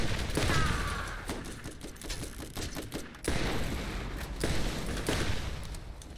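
Gunfire in the video game Borderlands: dense bursts of automatic shots and booming blasts, loud and close, rattling almost continuously with a short lull partway through.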